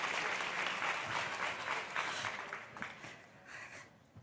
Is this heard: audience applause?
yes